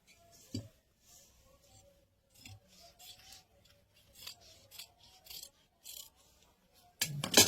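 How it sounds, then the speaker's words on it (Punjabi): Scissors snip through paste paper while cutting out a neckline, a series of quiet, soft crisp cuts at irregular intervals, close by, ending in a louder rustle. "ਇਹਨੂੰ ਆਪਾਂ ਨੇ ਕਟਿੰਗ ਕਰ ਦੇਣਾ ਹੈ"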